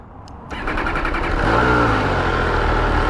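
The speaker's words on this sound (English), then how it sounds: "Beautiful triple sound motor." A 2022 MV Agusta Dragster 800 RR triple-cylinder motorcycle fires up close by, a quick starter whir catching into a loud, rough idle that swells into a steady, throaty hum.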